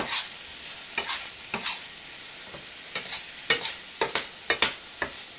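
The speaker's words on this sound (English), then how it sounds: "There you go, sizzling very nicely." Chicken legs sizzle steadily in a frying pan, broken by several sharp bursts of louder crackling as it is stirred; no one speaks.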